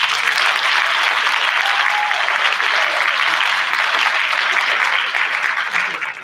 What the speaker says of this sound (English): I'd like to give all a round of applause for that performance